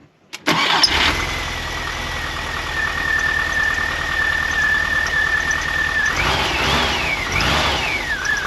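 A Volkswagen Vanagon engine cranks and catches quickly, then settles into a steady close idle with a thin high squeal over the rumble, followed by a couple of revs near the end.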